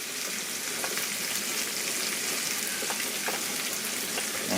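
Browned ground beef frying in a pan for shepherd's pie, a loud steady sizzle throughout with faint scraping from stirring.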